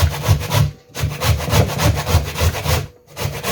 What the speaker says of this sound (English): So this is how I'm grating my sweet potatoes.